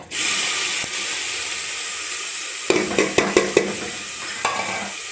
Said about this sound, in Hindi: तेल डालेंगे, प्याज डालेंगे